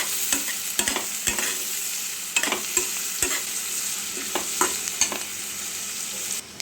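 Onions and slit green chillies being stirred in a frying pan for masoor dal tadka, a steady sizzle with repeated sharp clicks and scrapes of the spatula against the pan, close and continuous.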